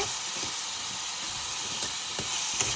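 Spiced potatoes for aloo posto, seasoned with salt and a twelve-spice powder, sizzle and hiss steadily in a pan as they are stirred, with a few faint scrapes standing out near the end.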